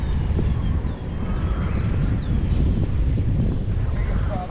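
Steady outdoor wind buffeting the microphone while fishing with live bait on the water in New York City, a constant broadband rumble throughout with faint background voices.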